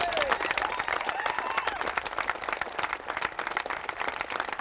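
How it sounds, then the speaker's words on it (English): Audience applause fills the room: dense, fast crowd clapping that stays steady and loud throughout, with faint voices mixed beneath. "would you give her a great round of applause?"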